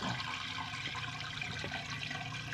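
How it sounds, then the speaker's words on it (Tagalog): Steady rushing and gurgling of water draining down through a pipe while moving catfish larvae to a rearing tub, close and continuous for the whole moment. "Magdadrain ang tubig yan pababa."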